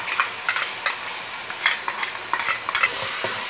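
Ginger garlic paste being stirred into cooked-down tomato in a hot pan for a fenugreek chicken gravy: repeated scraping strokes and soft clinks of a spoon over a steady sizzle, close and continuous.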